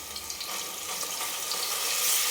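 Crushed ginger, garlic and green chili dropped into about three spoons of hot oil in a cooking pot, giving a steady, close hiss of frying that builds slightly toward the end.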